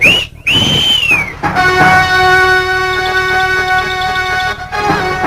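A man's loud, sustained whistle signal at night, with a rising-and-falling opening, then long held tones over a steady ringing background. No voices, heard close.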